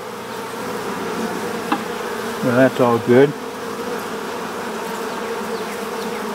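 Honey bees hum in a steady, close drone as an opened colony is reassembled after a hive inspection with an Apisolis vapor smoker, while someone speaks briefly partway through.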